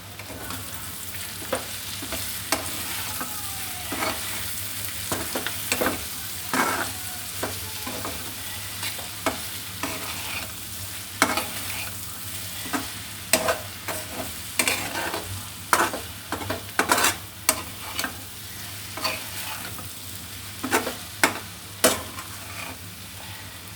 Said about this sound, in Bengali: এখন আমি এখানে দিয়ে দিব জিরে গুঁড়ো একটু নেড়ে দিব